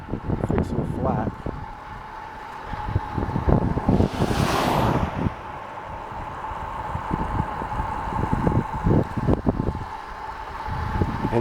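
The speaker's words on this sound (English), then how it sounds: "that's what it's like riding a bike at 30 miles an hour." Strong wind roars past while riding a bike at about 30 miles an hour down a desert mountain pass, a continuous buffeting rush with a louder gust midway, under someone talking.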